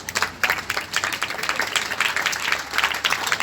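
Students clapping at a government senior secondary school meditation session, a crowd's uneven, rhythmic rounds of claps with bursts rising and falling close by.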